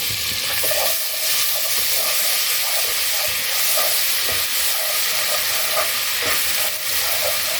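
Two spoonfuls of chopped garlic fry in oil for a mutton korma, giving a steady, close hiss of sizzling with faint scraping as it is stirred.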